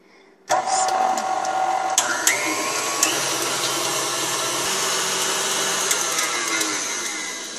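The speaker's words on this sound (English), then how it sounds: "we will whisk this together for about 7 minutes" Electric mixer whisking cake batter for a chocolate layer cake on medium-high, starting abruptly and then holding a loud, steady whirring drone up close, with faint rattles from the beaters against the bowl and no talking.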